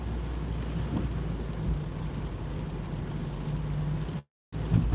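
Dense, steady rain roaring continuously with a low rumble underneath, briefly cut to silence near the end before resuming.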